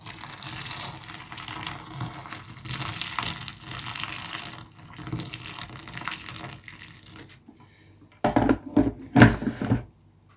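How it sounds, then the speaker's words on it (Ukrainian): Freshly boiled water poured over citrus fruit in a container, a steady running splash that ends, followed by a few brief louder bursts of water near the end. "Заливаємо гарячою водою, яка щойно закипіла."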